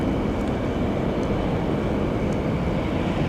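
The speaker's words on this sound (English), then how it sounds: "looks like our first plane of the day is going to be a KC. Beautiful little KC 135." A Boeing KC-135 military jet, a Boeing 707 derivative that may be re-engined, rumbles at Phoenix Sky Harbor airport as a steady broadband engine roar without voices.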